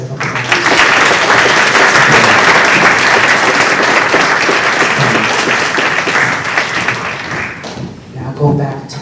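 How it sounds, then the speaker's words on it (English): A Halloween Spookfest audience gives a loud round of applause, with dense clapping that holds steady, then thins and fades near the end as a voice returns. "Can we have another round of applause?"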